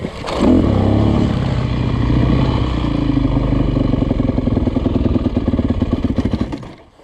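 Suzuki RM-Z 250 dirt bike, recently rebuilt with a clutch problem, running close by with a loud steady engine drone, a rising rev in the middle and rattly pulsing toward the end before cutting off.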